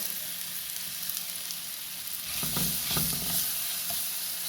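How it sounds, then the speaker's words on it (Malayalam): Banana pieces frying in melted ghee in a pan, a soft steady sizzle that swells louder midway with a burst of stirring scrapes and bubbling, close and without voices. "നെയ്യ് നന്നായി ഉരുകി വരുമ്പോൾ നമുക്ക് എടുത്ത് വെച്ചിട്ടുള്ള പഴം നമുക്കിതിൽ ഇട്ട് കൊടുക്കാം"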